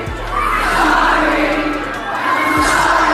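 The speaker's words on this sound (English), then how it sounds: "after hearing her fans chant her name out loud in her concert" Large concert crowd of fans roaring and chanting the singer's name together, a loud sustained mass of voices filling the whole stretch.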